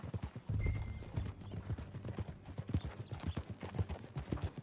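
Horse hooves clip-clop in a quick, steady rhythm in the video game Red Dead Redemption 2, with a brief whinny near the start and no talk.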